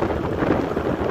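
Steady wind buffeting the microphone, a constant low rumble with no pauses or other sounds.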